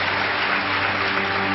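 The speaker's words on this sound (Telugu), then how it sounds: "గట్టిగా చప్పట్లు కొడదాం." A church congregation claps loudly together at a Christian service, a steady, dense wash of applause that holds at even strength with no pauses.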